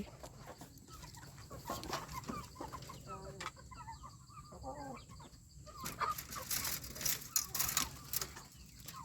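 Chickens clucking on a Thai farm near a rice field hut, scattered soft clucks and calls at a distance against a quiet outdoor background, with a faint voice in places.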